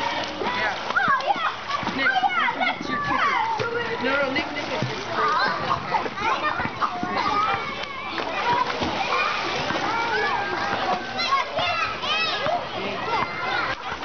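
A child at a swim lesson splashes steadily through the water, kicking and stroking in continuous close splatter, while an instructor and other children talk throughout.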